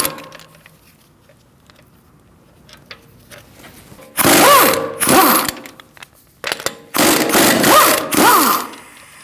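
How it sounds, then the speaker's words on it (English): Power tool with a 17mm socket removing a wheel from a 2008-2014 Mercedes-Benz C300, several loud whirring bursts close by, separated by short quiet gaps. "Using a 17mm socket, we're going to remove our wheel."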